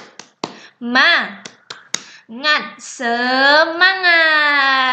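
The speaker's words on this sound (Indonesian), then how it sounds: "Oke, 1, 2, 3. Tepuk semangat." Schoolchildren in a classroom do a 'tepuk semangat' spirit clap: a few sharp, rhythmic claps up close, then loud voices chanting together.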